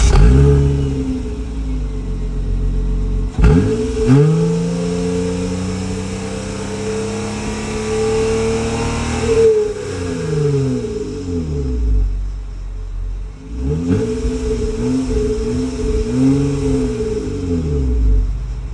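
Dual exhaust of a 2006 Acura TL revving, loud and close: sharp throttle blips rise and fall with a rumbling idle between them, repeated in several bursts.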